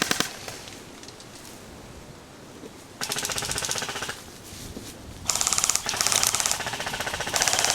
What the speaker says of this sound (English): Shots ring out.